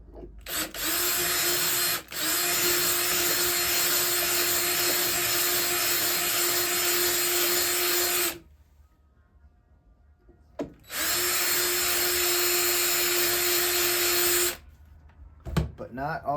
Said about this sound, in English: If it doesn't go, I'm gonna drill her some more.